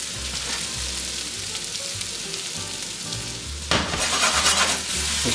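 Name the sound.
garlic, shallots and mushrooms sizzling in a pan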